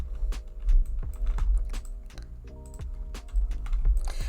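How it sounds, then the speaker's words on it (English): Clicky typing on a computer keyboard while entering cheats for a Sims-style build, a steady run of close, crisp keystrokes with irregular rhythm and no talk. "I'm just going to use our typical keyboard cheats to get that up there"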